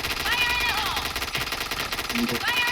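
Rapid machine-gun bursts from a video game firefight, loud and continuous through the stretch, with tonal game effects and voices talking over the shooting.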